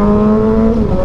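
A motorcycle engine held at high RPM, a loud sustained whine with a steady tone that dips slightly near the end, heard up close on a ride with a Suzuki GSX-S1000 or Kawasaki ZH2.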